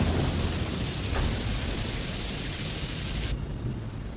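A hailstorm sound effect in a Hindi cartoon, hail falling on a village crop field as a dense, loud, continuous roar of pattering and rumbling that fills the clip before cutting off near the end, with no talking.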